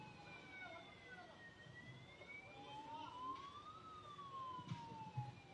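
A wailing ambulance siren rising and falling in pitch, somewhat distant, over traffic noise and indistinct background chatter.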